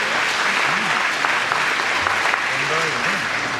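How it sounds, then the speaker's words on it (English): Steady crowd applause at a high school graduation ceremony, continuous dense clapping throughout with a few voices murmuring and calling out underneath. "Please give them a round of applause"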